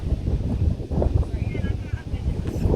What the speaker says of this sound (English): windy over here